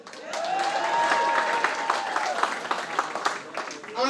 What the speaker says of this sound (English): Let's clap for the handsome men.